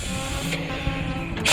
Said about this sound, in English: Suck a bunch of fluid through.